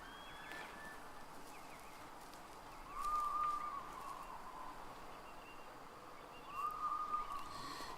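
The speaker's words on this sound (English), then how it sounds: "the birds are super loud on this game" Birds call in the hunting video game Way of The Hunter, two short cooing or whistling calls a few seconds apart over a soft outdoor ambience, moderately faint with no talking.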